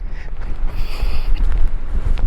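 Strong wind roars across an exposed Peak District hiking edge, buffeting the microphone in loud, continuous gusts with a deep rumble and no voices.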